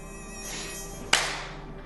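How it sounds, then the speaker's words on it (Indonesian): A mosquito whines in a thin, steady, high buzz close by, swelling as it passes, broken halfway by a sharp slap-like hit before the faint hum carries on. "dia pun terbangun karena gangguan nyamuk"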